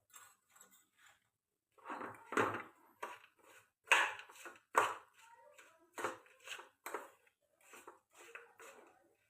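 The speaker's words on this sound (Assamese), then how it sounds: "এবাৰ আকৌ লৰাই দিম।" Ghee mixture for chyawanprash is stirred in a cooking pot, producing close, irregular clanks and scrapes of the spoon against the metal, with short pauses between strokes.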